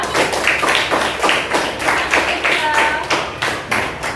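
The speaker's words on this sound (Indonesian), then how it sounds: "Kasih tepuk tangan buat Keisha." Children in a primary-school coding class clap for a classmate named Keisha, a steady run of close, uneven handclaps lasting the whole moment, with faint voices mixed in.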